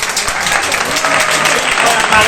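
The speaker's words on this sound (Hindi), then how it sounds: "चलिए इनका जोरदार ताली हो जाए" An audience claps loudly and steadily for the winners of a chilli eating challenge, a dense burst of applause with no voices over it.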